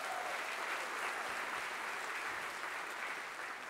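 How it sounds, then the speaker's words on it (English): Steady applause from a cabaret telethon audience at a fifth annual show, a dense, even wash of clapping that holds for several seconds with no voices over it. "That deserves an applause"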